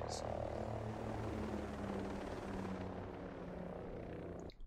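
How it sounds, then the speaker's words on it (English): An enemy helicopter in the video game Ghost Recon Breakpoint drones steadily with a loud, continuous rotor and engine roar that holds for several seconds before cutting off abruptly at the end. "Enemy choppers out of range."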